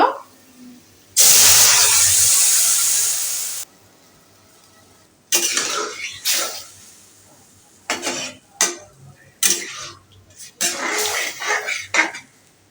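Taro stems (kochu shak) hit hot oil with browned onion and garlic, giving a loud, steady sizzle for about two seconds, followed by intermittent stirring scrapes and clinks of a utensil against the pan.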